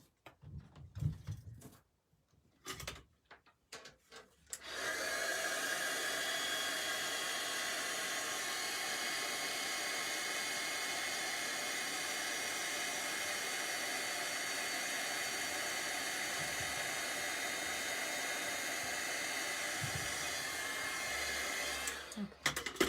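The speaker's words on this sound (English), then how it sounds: "now it's gonna make a little noise because I have to heat it" A heat tool blowing hot air to melt embossing powder on a card, a steady loud whooshing roar after a few handling knocks, running continuously for about seventeen seconds before clicking off.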